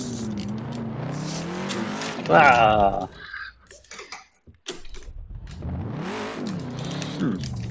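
Ford Mustang drift car at E-Town, its engine droning and rising as tires squeal through a transition, loud and continuous with a brief lull, while someone talks over it.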